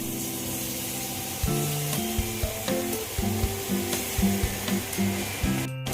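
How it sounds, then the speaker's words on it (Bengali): A bay leaf, ginger and dried chili paste sizzle in hot oil with a soft, steady crackle, while a stepped melodic tone plays over it and a brief scrape sounds near the end. "আমি এখানে একটা তেজপাতা ফোড়নে দিলাম, সঙ্গে একটু আদা আর শুকনো লঙ্কা বাটা দিয়ে দিলাম"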